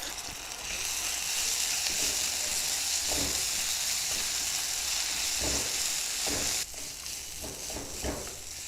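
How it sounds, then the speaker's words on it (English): Onions with ginger garlic paste sizzle steadily in a frying pan for a matar paneer dish, a loud continuous hiss with a few soft stirring knocks, dropping slightly in level partway through; no talking. "So now we're going to cook the onions until they start to golden."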